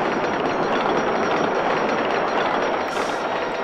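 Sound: roller coaster train running, from video game Roller Coaster Tycoon 2

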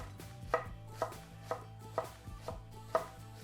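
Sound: knife chopping cabbage

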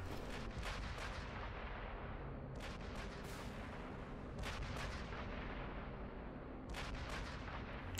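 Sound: flak tower guns firing in video game Sniper Elite V2

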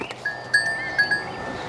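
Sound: Sirohi goats bleating on a goat farm

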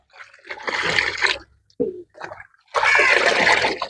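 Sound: stirring fertilizer into a bucket of water

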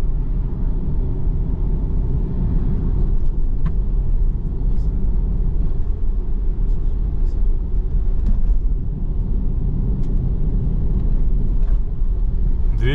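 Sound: route 225 bus driving through the town of Esik

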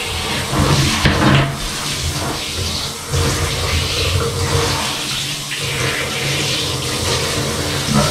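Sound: running water from hose during dog bath

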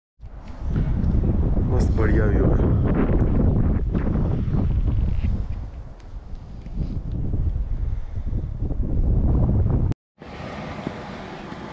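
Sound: strong wind blowing outdoors in freezing cold

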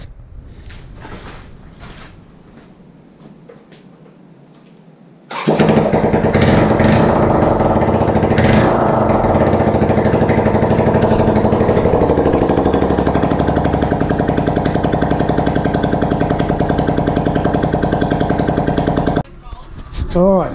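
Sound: Suzuki GS 125 motorcycle engine starting and running

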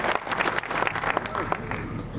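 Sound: crowd applause

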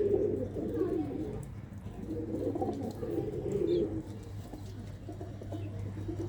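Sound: pigeons cooing

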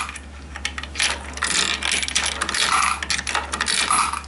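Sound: coins dropping through a six-coin coin acceptor

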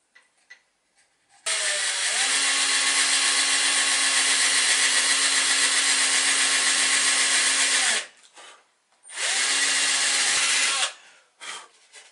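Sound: drilling a hole in a wooden toy boat

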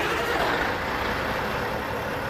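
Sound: Ford Aeromax 550 hp Cat engine starting, American Truck Simulator video game

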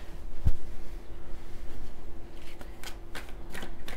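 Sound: shuffling tarot cards

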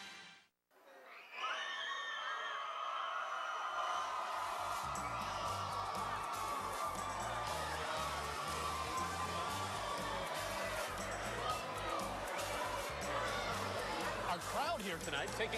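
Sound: crowd of about 3,000 cheering at high school football pregame

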